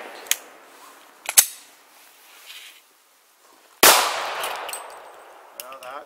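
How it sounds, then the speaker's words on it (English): A .40 caliber 180-grain jacketed hollow point round fired at a ballistic vest on a firing range, heard as sharp, loud cracks: a couple of quick reports early, then one big blast followed by a ringing tail. "40 caliber, it's 180 grain, jacketed hollow point"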